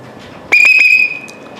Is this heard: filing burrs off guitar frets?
no